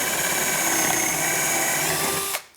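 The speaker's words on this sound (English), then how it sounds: "you want to use the larger drill bit and basically" A power drill with a larger bit bores into wood through a drawer glide jig while installing Blum Tandem soft close undermount slides, a steady close whine running without a break and cutting off sharply at the end.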